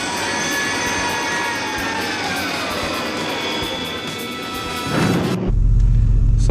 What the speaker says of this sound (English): The main button that we're looking for, though, is only one, and that is our turbo boost.